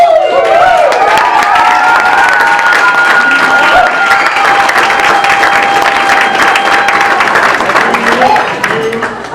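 An indoor community crowd gathered for a martial arts instructor gives warm, sustained applause with cheering and whoops for about nine seconds, loud and dense before tapering off at the end.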